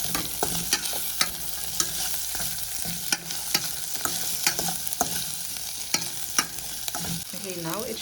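Potato wedges, broccoli and cauliflower sizzle steadily in a frying pan as a utensil stirs them, with regular sharp scrapes and taps against the pan over the continuous frying hiss; close and clear with no speech.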